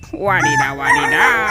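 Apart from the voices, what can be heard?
rooster crowing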